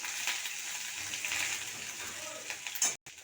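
Spices, dried and green chillies, cumin, bay leaf and ginger paste sizzle steadily in hot mustard oil, a close, continuous bright crackle that drops out briefly near the end.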